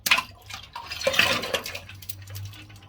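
Ice cubes tumble and clink into a container of cold water for a frozen water shave, a quick cluster of bright clatters and splashes followed by fainter settling clinks and drips, close by.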